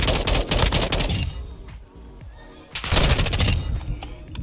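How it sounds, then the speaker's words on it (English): Sustained automatic gunfire in Call of Duty: MWII, loud rattling bursts that pause briefly before another heavy barrage, no voices over it. "I'm getting shot from everywhere"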